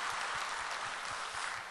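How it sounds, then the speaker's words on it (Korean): Steady applause from a church congregation during a Korean sermon service fills the whole moment, a dense, even patter of many hands clapping at once. "박수 한번 하겠습니다"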